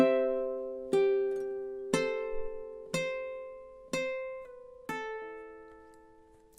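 Ukulele plucking a short passage of The Office theme, six evenly spaced bright chords or notes, each ringing out and decaying before the next, played alone and close.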